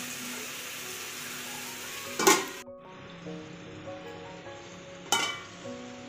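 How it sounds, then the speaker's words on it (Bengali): Chicken stir-fried with spices in a pan for chicken pulao, a steady close sizzle with stirring scrapes and two sharp clatters of utensil against pan. "এক দেড় মিনিট মশলার সঙ্গে চিকেন একটু নেড়ে চেড়ে রান্না করার পরে"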